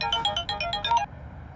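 A phone ringtone plays at night, a quick run of bright, evenly spaced electronic beeps lasting about a second before cutting off, fairly close and alone.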